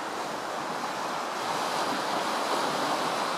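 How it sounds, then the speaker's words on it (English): A steady rushing of river water fills the clip, a broad constant roar with some wind buffeting, no voices, along the river esplanade in Palmerston North, New Zealand. "you can certainly hear the river's certainly running"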